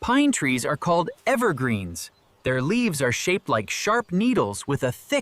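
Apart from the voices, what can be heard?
No distinct noise like a dog, phone or traffic.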